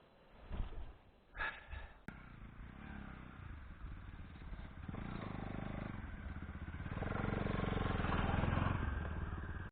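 A motorcycle is brought up to a campsite, its engine running with a steady low rumble that builds louder toward the end; a few breaths and clattering sounds come early on.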